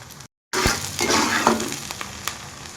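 Garlic, onions and tomatoes sauté in a pan for a fish curry, a loud close sizzle with scraping stirs and light clinks; the sound cuts out briefly at the start, then runs continuously without talk.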